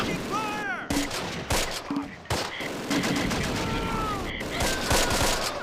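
Bursts of MG42 machine gun fire in the wartime strategy game Close Combat: Last Stand Arnhem, loud rapid volleys broken by brief gaps, with a voice heard over parts of the shooting.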